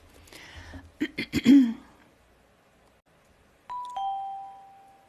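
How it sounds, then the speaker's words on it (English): A small bell chimes during a livestream, two bright ringing tones near the end after breathy throat noises and a short vocal sound earlier, then fading out. "I don't know what the little bells are for yet"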